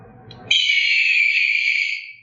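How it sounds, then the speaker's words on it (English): A Petrainer PET910 dog training collar beeper gives a loud electronic hawk-like screech that starts abruptly and holds steady for about a second and a half before fading out, a tonal synthetic bird cry. "The 7th is a hawk."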